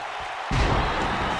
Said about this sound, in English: Brett Angel feeding off the energy of this live crowd.